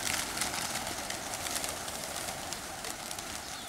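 Pigeons coo at a Veria pigeon loft on a June summer day, faint and distant against a steady hiss of outdoor background noise, with no voices.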